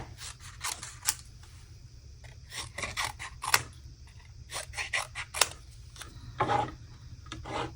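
Scissors snipping apart glitter paper squares for a papercraft gift card holder, a series of crisp close snips and rustles in irregular bursts, some clustered quickly and others spaced out, with no talking.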